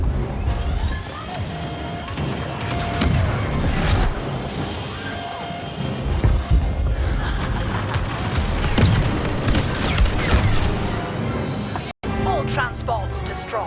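Transports exploding in Star Wars Battlefront II on Tatooine: heavy booms and crashes pile up over dense battle noise, loud and near, with a voice speaking over the chaos.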